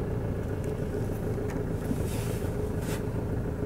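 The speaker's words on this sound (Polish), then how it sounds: "Mamy tutaj diesla, wiadomo, nie można spodziewać się cudów." A 2017 Mercedes-Benz Marco Polo Horizon van's diesel engine idles with a steady low rumble and rough clatter, continuous and close, with faint wind noise.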